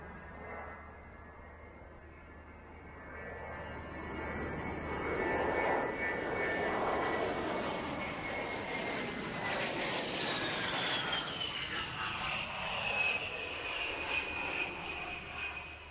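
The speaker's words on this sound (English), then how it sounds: "Another piece of American hardware on display at Mildenhall was the A-10 tank buster," An A-10 Warthog tank buster at the Mildenhall airshow passes with a loud, sustained engine roar that swells and shifts in pitch as it flies by, steady throughout with no talk.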